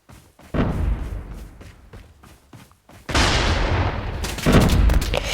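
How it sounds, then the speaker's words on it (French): Gunfire bursts near the player in a battle royale video game, a few sharp shots early then heavier, sustained loud firing and booms in the second half, with no talk. "Ça tire près de moi."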